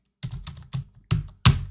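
Computer keyboard keys typed in a handful of distinct clacky bursts, close and clear, with no talking over them.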